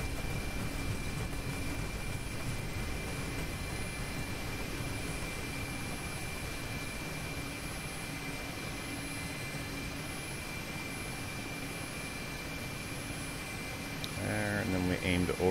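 A Mi-8 transport helicopter in the DCS flight simulator hovers near a landing pad, its turbine engines and rotor making a steady, dense roar that holds unbroken throughout, with a brief burst of tonal chirps near the end.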